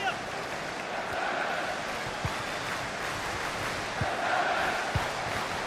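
West Ham football crowd in a stadium, a loud, sustained roar of massed shouting with swells of noise, a few sharp isolated cracks, and a commentator's voice talking over it.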